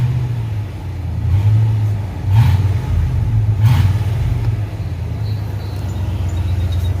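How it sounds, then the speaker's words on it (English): A 1994 Ford F-150 truck engine idles with a steady low rumble, then revs twice in quick blips before settling back, heard close and alone. "I'm gonna give her a little bit of a rev real quick."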